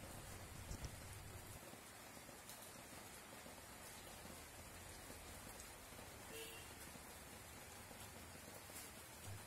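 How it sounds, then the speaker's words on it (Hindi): Heavy rain pours steadily outdoors, a continuous soft hiss of drops on surfaces that stays even and fairly faint throughout, with no voices. "बाहर बड़ी ज़ोरों की बारिश लगी है"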